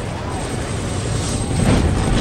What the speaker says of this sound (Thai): กระโดดข้ามเฮลิคอปเตอร์เฮ้ย